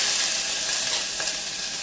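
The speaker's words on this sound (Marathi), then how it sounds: "हे अद्रक लसूण मिरचीची पेस्ट आहे आपली मी थोडी तेलामध्ये उकळून घेते" Ginger, garlic and green chili paste sizzles steadily in hot oil in a pan, a loud, continuous hiss close up with no voices.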